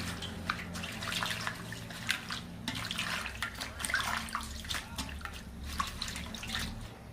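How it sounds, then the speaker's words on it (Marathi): Water splashes and sloshes steadily as mixed leafy greens for bhaji are swished and rinsed in a basin, with scattered drips and small splashes throughout. "आता आपण याच्यात टाकू आणि मस्त अशी याला धुवून घेऊ."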